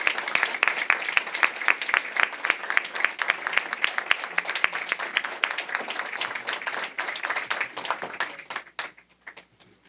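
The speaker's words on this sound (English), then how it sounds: "join me in giving Joyce Scotton a big round of applause" Audience applause at a political association's annual general meeting, a dense round of clapping from a roomful of people that holds steady for several seconds, then thins to scattered claps and fades out.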